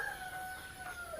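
Free-range village chickens at an intensive farm in Ngentak Rejo, Lendah, Kulon Progo give a faint, drawn-out crow with soft clucking in the background.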